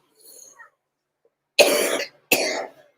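Two sharp, harsh coughs from one person, close and loud in quiet surroundings, following a faint brief sound earlier.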